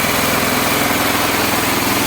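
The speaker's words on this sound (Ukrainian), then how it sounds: "працює компресор після ремонту краніка" A small air compressor, just repaired at its valve, runs steadily close up with a loud, even mechanical drone and rapid regular pulsing, no pauses or voices.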